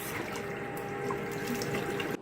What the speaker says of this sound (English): Now it's time to rinse.